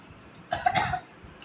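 A single close cough, short and throaty with a harsh burst, in an otherwise quiet room.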